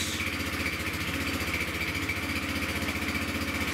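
A Peugeot Speedfight 4 125cc liquid-cooled scooter engine idles steadily and close, with a rough, fast-pulsing putter that never changes pace; the engine management light is on and the scooter visibly shakes.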